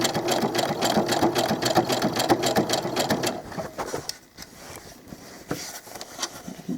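A sewing machine stitches the side seam of doll clothes with a fast, even mechanical whir of needle strokes. The stitching runs for about three seconds, then stops, leaving only faint handling clicks.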